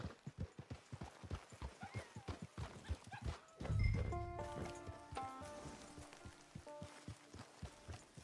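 Steady clip-clop of horse hooves in the video game Red Dead Redemption 2 Online, a regular rhythmic beat throughout, with a brief swell of music or tones partway through.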